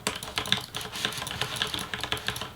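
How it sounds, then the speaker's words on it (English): Fast typing on a tenkeyless mechanical keyboard with Cherry MX Brown switches and blank keycaps, a close, steady stream of crisp clacking keystrokes with no voices. "This is a 10 keyless mechanical keyboard equipped with Cherry MX brown switches."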